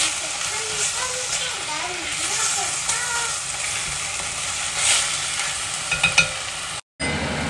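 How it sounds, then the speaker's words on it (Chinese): Small pieces of beef stir-fry in sesame oil for a beef and seaweed soup, a loud continuous sizzle with occasional stirring clatter while someone talks over it. "这个要搁香油炒一炒"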